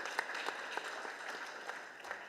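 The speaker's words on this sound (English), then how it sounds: "join me and say a big round of applause to Barak" Faint, thin applause from an audience at a conference, a steady wash of scattered clapping with a few sharper claps standing out, lasting a couple of seconds.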